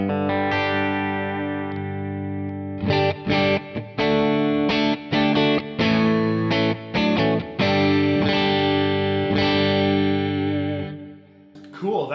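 Distorted electric guitar plays a series of chords and sustained notes through a Kemper profile of a '63 Trem-Luxe amp, ringing out with brief pauses and a fading final chord.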